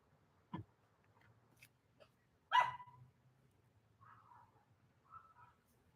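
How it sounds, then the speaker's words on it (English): A dog barks a few scattered times from some distance, short sharp yelps separated by quiet pauses, with faint thin sounds trailing between them. "that's Molly the dog up there yelling at us"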